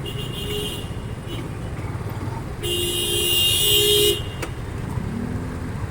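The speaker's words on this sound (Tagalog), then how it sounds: "Talagang traffic." Busy Philippine street traffic with motorcycles and cars, a constant engine rumble with a car horn honking loudly for about a second and a half midway, plus faint background voices.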